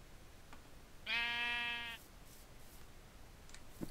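A single sheep in the video game Minecraft lets out one clear, mid-length bleat, loud against a faint background, with no talking over it.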